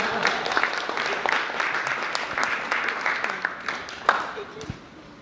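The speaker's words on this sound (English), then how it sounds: "please give yourself a round of applause" A lecture audience gives a round of applause, scattered clapping with a few sharp individual claps standing out, moderately close, with some voices murmuring underneath.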